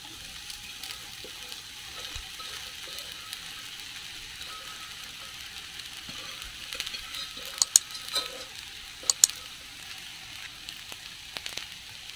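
Leftover rice being stir-fried with Malvani masala in a pan gives a soft, steady sizzle, with a few sharp scraping clicks of a spoon against the pan. No one speaks.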